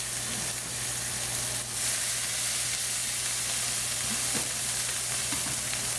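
Beef and green beans stir-frying in a pan with red and purple onion and garlic, a close, continuous sizzle with light crackle over a low steady hum.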